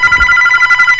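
A telephone rings inside a Roblox video game, its bright electronic trill repeating in quick, steady bursts that fill the whole moment at a close, loud level.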